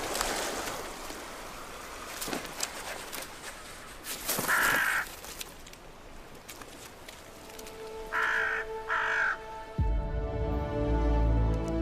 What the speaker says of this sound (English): Both hunter and scavenger, ravens are great survivors.